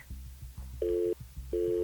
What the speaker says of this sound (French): le téléphone sonne une troisième fois